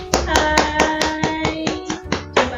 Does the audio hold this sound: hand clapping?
yes